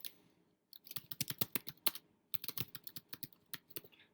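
Quick keystrokes on a computer keyboard, two close bursts of crisp clicking taps separated by a brief pause, fairly quiet with no talk.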